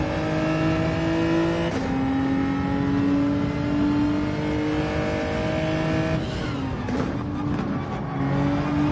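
A race car engine at the Brands Hatch circuit drones loudly and steadily, its pitch rising and falling as it revs and shifts, with a brief burst of passing noise near the end.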